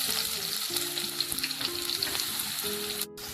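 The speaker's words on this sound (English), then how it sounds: "Next is I'm going to add in the shallots." Shallots fry in hot oil with mustard seeds and fenugreek, a close, busy sizzle with crackling pops and stirring scrapes throughout, then a brief sudden drop near the end, with no voices.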